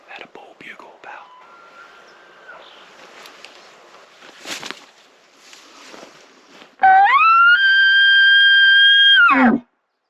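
A bull elk bugles loudly and nearby: a long, high, sustained whistling call that rises, holds steady for several seconds and drops off sharply at the end, following quiet whispered talk and faint rustling in the woods.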